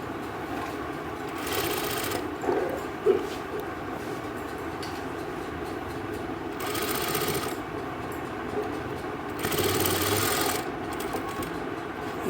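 Sewing machine stitching a suit in a class setting, running in steady rapid bursts of a few seconds with quieter pauses and small clicks between, close by.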